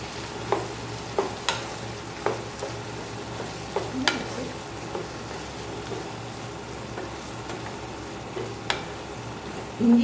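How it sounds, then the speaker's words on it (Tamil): Ginger garlic paste fries in a pan with a steady, close sizzle. A utensil scrapes and taps against the pan at irregular intervals as the paste is stirred. "இஞ்சி பூண்டு பேஸ்ட் போட்டுடலாம்."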